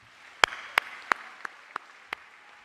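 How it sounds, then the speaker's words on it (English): At a university graduation ceremony, six sharp, distinct claps ring out one by one at a slow, steady pace, close and clear over a faint, quiet room. "giving them a warm round of applause"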